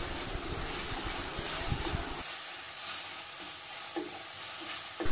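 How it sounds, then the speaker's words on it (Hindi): Tomatoes for a potato and pea masala pulao fry in a pan with a close, continuous sizzle and the scraping of stirring. "इसके बाद हम टोमेटोस ऐड करेंगे और इसको भी हम अच्छी तरह से मिक्स कर"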